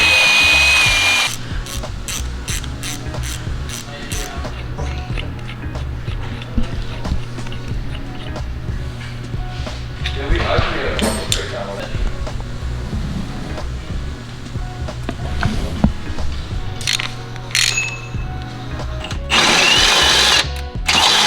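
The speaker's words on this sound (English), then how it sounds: "he's got to drill it out for the bigger bolt" A power drill boring out a solid aluminum subframe bushing on a BMW for a bigger bolt, loud steady grinding with a low motor hum, punctuated by clicks and clanks of the work, close up.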